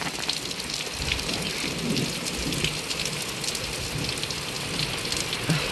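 Heavy rain pours down during a summer storm, a dense, steady hiss of drops hitting surfaces with low thunder rumbling beneath, loud and continuous throughout with no voices.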